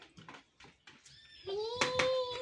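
A cat lets out a drawn-out, tonal meow near the end, loud and close, after a stretch of soft talking in a quiet room.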